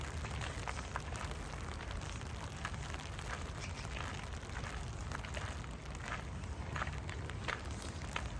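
Footsteps crunch steadily during a slow mindful walk outdoors, a regular soft stepping rhythm over a constant background wash.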